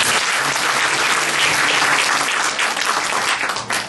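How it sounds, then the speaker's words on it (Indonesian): A church congregation applauds together in dense, sustained clapping that fills the space evenly for several seconds, fading slightly at the end, with no talking over it. "Mari tepuk tangan kita buat Tuhan."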